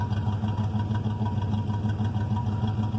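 A 1973 Dodge Titan motorhome engine with burnt valves and dual exhaust idles loud and close, a steady pulsing thrum with an uneven beat throughout, no voices.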